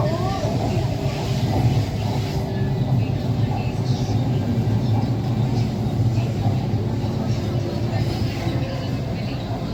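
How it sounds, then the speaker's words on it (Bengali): A Kolkata Green Line metro train rolls along the track past Phoolbagan, rising from the underground section onto the elevated line, heard from inside as a loud, continuous rumble and rattle. "এই আমরা দেখুন ফুলবাগান ক্রস করে এখন ট্রেনটা মাটির ওপরে উঠে গেল।"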